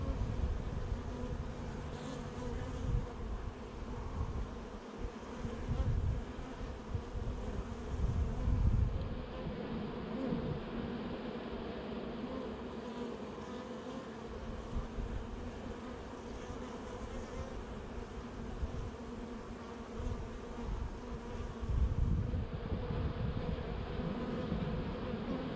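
Honey bees and drones fill an open, busy hive with a dense, continuous close buzz that swells and fades slightly as frames are handled, with no talking.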